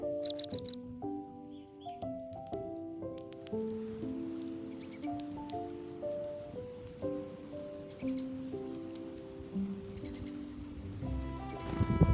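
A chickadee perched on a person's finger in a pine plantation being turned into wildlife habitat gives a quick burst of bright, high chirps at the start, followed by soft instrumental music.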